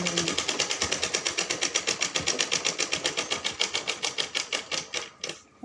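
A sewing machine runs steadily while stitching a second, stronger seam to join a sleeve, its needle hammering out a fast, even rhythmic clatter that stops abruptly near the end.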